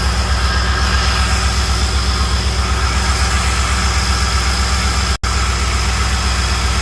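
A 1999 OBS truck with an LS engine swap runs at a steady idle, a loud, continuous low rumble with an even pulsing throb, briefly cut by a sharp dropout before the drone resumes, with no talking.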